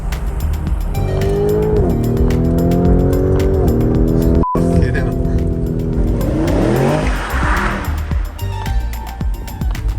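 A race car drives fast around a track in Italy, its engine roaring loud and close as it climbs through gears, with a brief dropout midway and sustained tire squeal in the corners.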